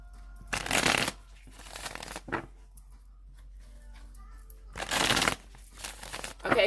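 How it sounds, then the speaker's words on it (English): A tarot deck riffled and shuffled in several separate bursts, crisp papery flutters close to the mic with quiet pauses between them and faint handling sounds in the gaps. "I'm going to shuffle it 3 more times"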